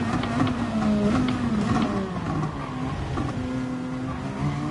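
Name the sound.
race car exhaust sound in a racing video game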